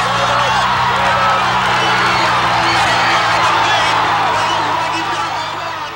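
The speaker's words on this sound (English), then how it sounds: "a tunnel of noise that can be as oppressive as it can be encouraging due to the tremendous crowds which line the finishing stretch" Tremendous crowds lining the finishing stretch of the Morgul bicycle race at the 1986 Coors International Bicycle Classic roar and whoop in a loud, sustained wall of cheering, with a voice speaking over it.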